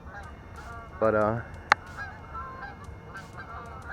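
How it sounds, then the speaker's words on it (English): Geese honk overhead early in the morning near a sand beach, with a short burst of loud calls and a single sharp honk against a quiet outdoor background. A brief word is spoken. "Here come the geese again."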